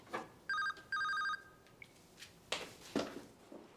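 A phone rings on an outgoing call, two short electronic ring bursts close together, then quiet with a few faint clicks and rustles.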